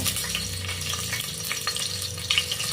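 Green chillies fry in hot oil for chana masala, giving a steady close sizzle broken by light stirring clicks, with no talk.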